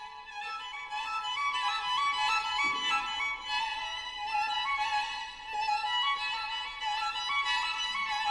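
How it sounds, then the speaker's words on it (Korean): Gentle orchestral music with flowing, rippling strings and woodwinds, steady and moderately loud throughout, evoking a softly running stream. "이건 시냇물이 졸졸졸 부드럽게 흐르는 소리랍니다."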